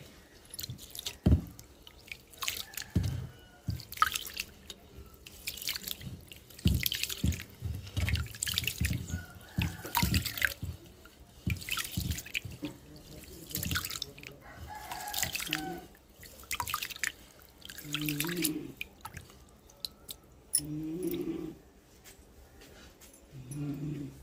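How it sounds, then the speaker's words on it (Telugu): Vegetables being washed under a running kitchen tap, with water splashing and dripping in irregular bursts close by, while a dog barks intermittently and other household sounds occur in the background. "వీటిని శుభ్రంగా అయితే కడుక్కుందాం."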